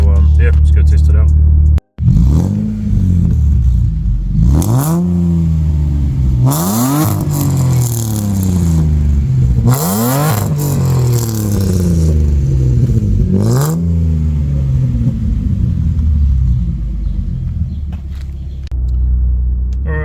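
Ford Barra XT Falcon engine with a modified exhaust, close and loud, revving repeatedly in rising sweeps that fall back to a deep rumbling idle, several distinct blips across the stretch with no talk.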